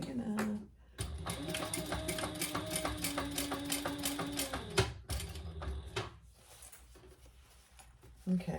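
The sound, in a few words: sewing machine stitching interfaced cotton for a laptop bag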